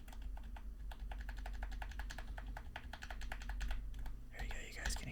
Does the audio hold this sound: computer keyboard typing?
yes